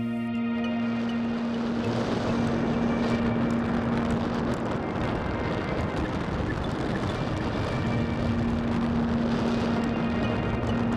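The electric motor of an ST Models Arcus M RC glider whines steadily in flight over a broad rush of wind, its tone shifting partway through as the throttle is pulled back toward idle.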